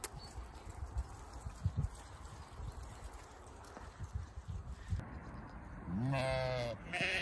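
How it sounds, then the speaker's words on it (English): A young sheep bleats in a farm pen, with a couple of quieter calls and shuffling early on before one loud, close, wavering bleat near the end. "Baby sheep."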